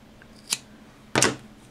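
Scissors snip crochet yarn twice, a small light cut followed by a louder crisp close snip, in a quiet room.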